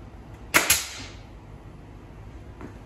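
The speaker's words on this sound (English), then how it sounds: "Lock my nail gun up a little bit." A nail gun fires two quick, sharp shots into a wooden Adirondack chair in a workshop, a close double bang followed by a faint later tap against quiet room noise.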